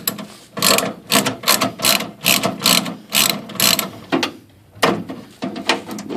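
Ratcheting on nuts buried deep inside the door of a 1979 Firebird during window motor replacement: a string of close, loud, rapid clicking bursts with brief pauses between them.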